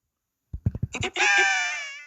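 After a few short stuttering cries, a video game character lets out a drawn-out, high, wailing scream lasting about a second, loud and alone.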